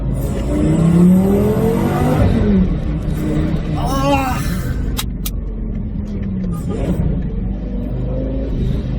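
A Lamborghini engine revs and roars up close, pitch sweeping up and down, with a brief exclamation from a person partway through.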